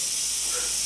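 A pressure cooker vents steam with a steady, unbroken hiss, bright and constant for under a second, with no other sounds over it.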